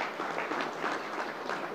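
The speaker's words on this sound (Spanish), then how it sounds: "un aplauso para los dos participantes" A room of people applauds two participants at a communication workshop, a dense, even wash of clapping that holds steady throughout.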